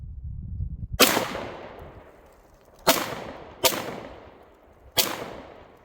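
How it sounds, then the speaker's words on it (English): Four sharp shots from a Canik TP9SF Woodland Edition 9mm pistol crack out at uneven intervals, each loud report trailing into a short decay, with a faint low rumble before the first. "I am aiming through the camera here and trying to shoot"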